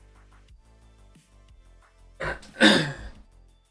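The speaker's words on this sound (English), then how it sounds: "Need to blow my nose one more time." Nose blowing, a loud broad burst of two quick blasts after quiet background hum, close and dry with no talk.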